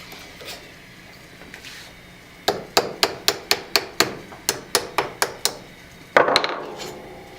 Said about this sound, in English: I'm letting the hammer do the work.